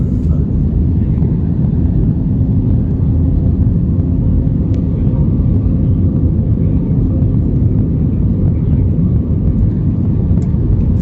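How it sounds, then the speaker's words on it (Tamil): Airplane cabin during landing approach at the airport in Sri Vijaya Puram, Andaman Islands: a steady, loud low rumble of engines and airflow that holds constant throughout with no voices. "நம்ம ஃப்ளைட்டு ஏர்போர்ட்டில் போய் லேண்ட் ஆகிற வரையும் அப்படியே காட்டுறோம் பாருங்கள்"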